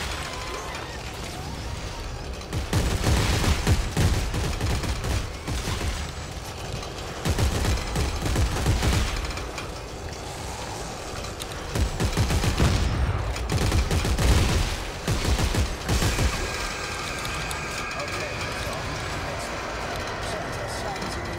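Weapons fire in Dead Space 3 comes in several sustained bursts of rapid shots separated by pauses, loud and close, mixed with creature noises and a muffled game soundtrack.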